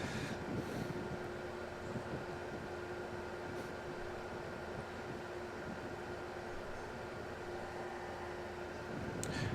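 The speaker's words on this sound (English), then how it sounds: "As you can see, it's quite windy there." Wind blowing steadily outdoors at a pop-up hotel in Cardiff Bay, a continuous broadband rush with microphone buffeting throughout and no talk.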